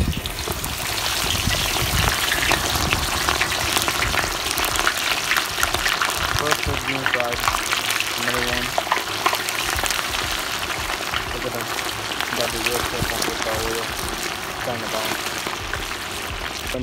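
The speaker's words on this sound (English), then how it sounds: "And then we got that fish boiling in here, check that out." Rainbow trout deep frying in oil gives a dense, continuous sizzle and crackle up close, with bubbling pops running throughout while a person talks over it.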